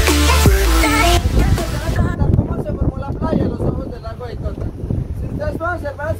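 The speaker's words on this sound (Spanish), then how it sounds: "Y arrancamos nuestro recorrido en esta lancha alrededor de la laguna de Tota." A boat motor drones steadily on the open water of Lake Tota in Boyacá, Colombia, with wind buffeting the microphone and people talking over the engine noise.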